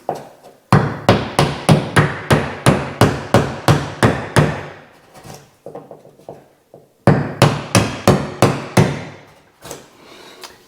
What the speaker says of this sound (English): I prefer to knock the holes on most occasions